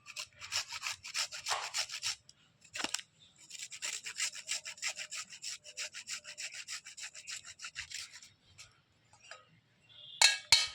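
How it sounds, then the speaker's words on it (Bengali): Fresh ginger root rubbed against a metal grater for a hair-care paste, giving repeated close scraping strokes in long bursts with short pauses between them, no talking. "আমি একটু আদা এর ভিতরে গ্রেট করে দেবো"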